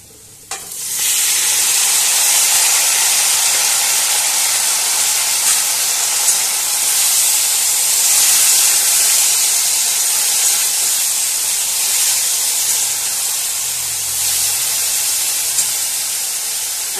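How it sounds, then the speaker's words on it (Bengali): Leafy greens hit a pan of fried onions with a sudden loud hiss. The sizzle holds as a strong, steady crackle for the full length, close by, with faint stirring beneath and no voices. "পেঁয়াজটা ভাজা ভাজা হয়ে গেছে, এবার আমি মিশিয়ে দেব শাকটা"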